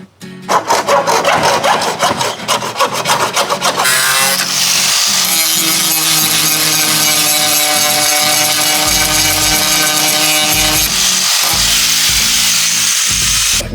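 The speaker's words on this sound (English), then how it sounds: "I'm just using hacksaw for now" A hacksaw cuts off moulding lugs on a Manitou machine, starting with fast rhythmic strokes, then settling into a loud, continuous ringing scrape with a sustained metallic whine, very close, with no talking.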